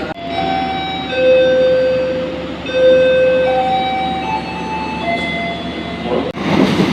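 Train pulling away from platform 1 at Kediri station, a steady low rumble carrying several sustained horn-like tonal notes, loud and close, before cutting off abruptly near the end with a brief clatter.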